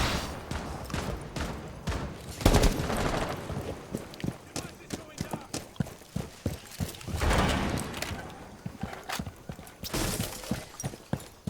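Gunfire in a Rainbow Six Siege match crackles in repeated sharp bursts and single shots, some loud and near, with French-speaking players talking over the action.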